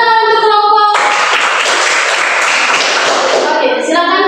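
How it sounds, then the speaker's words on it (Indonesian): In a classroom, a group of students breaks into a burst of hand clapping for the presenting group, lively and close for a few seconds after a sung or spoken tone, then tapering off. "tepuk tangan untuk kelompok."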